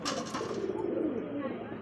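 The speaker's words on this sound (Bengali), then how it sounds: "আরও এক পেয়ার ইয়েলো কালারের ফ্যান্ডেল কবুতর" Yellow fantail pigeons coo softly for a brief moment, a low, close murmur of a couple of calls in a quiet setting.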